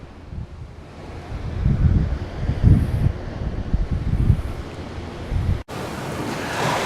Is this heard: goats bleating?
no